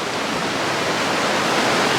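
Steady, loud rushing of stream water at a challenging trail water crossing on the Pacific Crest Trail, a continuous broadband wash with no pauses and no voices.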